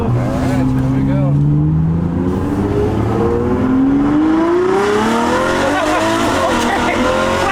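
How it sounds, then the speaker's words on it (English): A Ferrari fitted with a new exhaust revs and accelerates up close, its engine note rising loudly with a tire-squeal edge, as people talk over it. "This car sounds so ridiculous."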